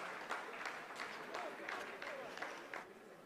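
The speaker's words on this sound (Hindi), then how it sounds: "आप इस तालियों के गड़गड़ाहट को सुन सकते हैं" Scientists in a mission control room clap during the Chandrayaan-3 lunar landing, a sustained patter of applause with periodic swells, heard at moderate distance under a commentator's talking.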